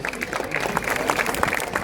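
Spectators at a French cross-country mountain bike eliminator race applaud the rider Ilona, a dense patter of clapping from a crowd with voices mixed in, sustained and fairly near for about two seconds.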